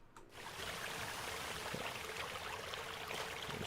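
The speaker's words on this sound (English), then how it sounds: "There's some water effect." Steady rushing water flowing in the Riven Remastered game world, a continuous broadband wash running evenly at moderate level after a brief quieter start.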